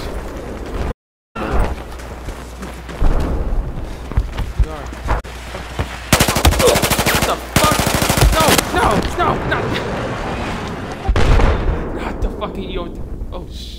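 Rapid bursts of gunfire in Battlefield 4, with a dense automatic-fire stretch in the middle and scattered shots and blasts around it, mixed under busy game noise and a player's voice talking over the action.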